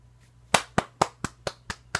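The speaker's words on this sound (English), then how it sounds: "I'm clapping with the face of disgust" About eight sharp hand claps in a steady, quick rhythm, close and fairly quiet, with no voices.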